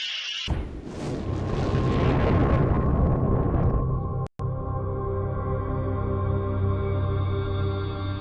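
Loud blast from an explosion test against a replica of the Lusitania hull, a sudden broadband boom that rumbles on and slowly fades across several seconds, with a brief cut partway through and no voices.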